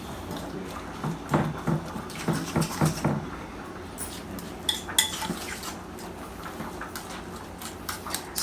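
Mayonnaise is mixed into potato salad in a bowl, with soft, irregular scrapes and clinks of a utensil against the dish, fairly close and quiet.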